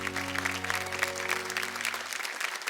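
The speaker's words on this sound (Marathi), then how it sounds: "एकदा जोरदार टाळ्या तुमच्या दोघींसाठी झाल्या पाहिजे." Loud, sustained clapping from a studio audience on a Marathi TV game show fills the whole short stretch and then stops.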